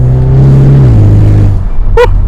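A Ford Mustang EcoBoost engine rumbles loudly and deeply while driving, its low drone dropping in pitch as it shifts down, then a short sharp tonal chirp near the end.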